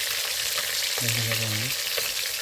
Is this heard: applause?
no